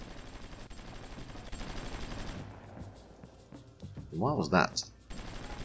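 Faint, distant gunfire crackles in the strategy game Supreme Ruler Ultimate while someone talks over it, and the shots stay soft and scattered beneath his voice.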